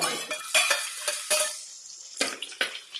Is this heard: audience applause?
no